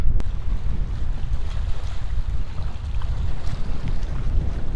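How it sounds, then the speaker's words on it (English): Steady, gusty wind of about 20 mph buffets the microphone with a constant low roar, mixed with lapping water and surf in the Smoky Mountains, and no voices. "It's gotten windy, about 20-mile-an-hour gusts."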